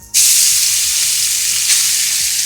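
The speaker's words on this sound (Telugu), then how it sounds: "ఇప్పుడు క్యారెట్ను కూడా పచ్చివాసన పోయేంత వరకు మనము ఈ నెయ్యిలో బాగా వేయించుకోవాలి." Grated carrot sizzles loudly in hot ghee, a sudden onset followed by a steady, close frying hiss with faint stirring scrapes underneath.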